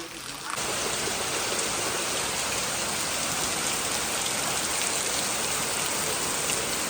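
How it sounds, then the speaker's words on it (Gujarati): Heavy out-of-season summer rain with wind in the Gir region, a loud, dense roar of downpour that swells in after a brief quieter opening and then holds steady and close. "આ બાજુ જો તમે જો વરસાદ ચાલુ છે અત્યારે"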